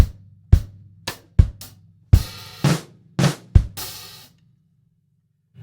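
A drum kit plays one bar with bass drum and hi-hat, a grade 4 drum part, as a run of separate close, punchy hits with sizzling cymbal strikes in an uneven rhythm, then silence.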